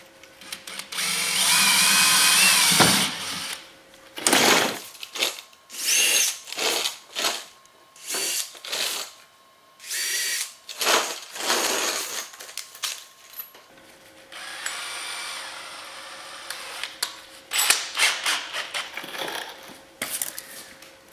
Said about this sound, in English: now you're going to go through with the hole saw